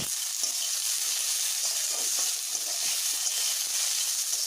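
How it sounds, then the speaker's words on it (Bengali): Potatoes frying in oil with salt, a close, even sizzle with fine crackling and faint stirring, steady and alone without speech. "আমি আরও একটু ভালোভাবে ভেজে নেব"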